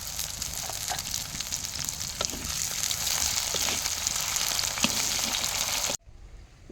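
Bitter gourd and pumpkin pieces fry in a pan with a steady, close sizzle and a few soft stirring clicks, cutting off abruptly near the end.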